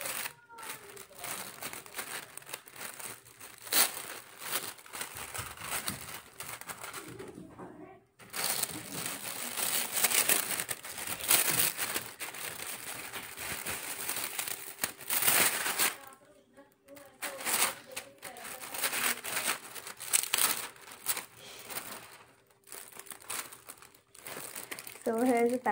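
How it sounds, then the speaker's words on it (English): A gift being unwrapped, wrapping paper crinkling and crumpling in loud, close bursts with brief pauses between handfuls, continuing for nearly half a minute as a pencil box and storybooks are uncovered. "Now let's open up the gift."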